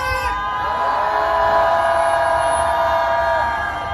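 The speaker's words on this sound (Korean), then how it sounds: "우리 함성 한번 질러볼까요?" A crowd of about 1,500 participants roars and cheers together at an anti-war peace rally in Korea. The loud, sustained collective shout holds steady for several seconds, with voices layered in a dense wall of sound.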